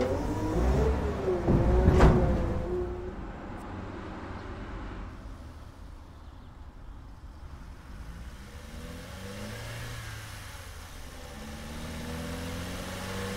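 A truck engine at a recycling center in a simulation game, with a loud rev near the start that settles into a steady mid-pitched running hum and a slight rise again toward the end.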